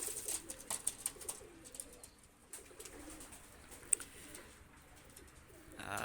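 Pakistani high flyer pigeons coo softly and intermittently, faint and somewhat distant against a low background hiss for about six seconds.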